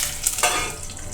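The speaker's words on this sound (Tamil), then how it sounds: "இப்போ குடமிளகாயை வைக்கலாம்." Capsicum set into hot oil in a pan, crackling and sizzling steadily up close, with a brief stir or clink early on.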